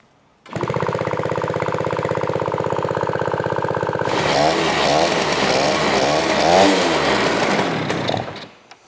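An old Yamaha parts-bike motorcycle engine fires up after cranking, settling into a loud, steady idle, then revving harder with a rougher, rising-and-falling roar before cutting off, close to the microphone.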